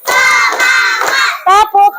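A classroom of children chant counts together while clapping their hands in time, a few broad claps blending into the loud, crowded group voices, then a teacher speaks briefly.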